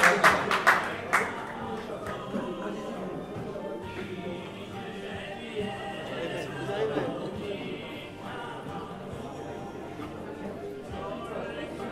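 A short burst of clapping at the start of a semikha ordination ceremony, then fades under murmuring crowd chatter and talk for the rest.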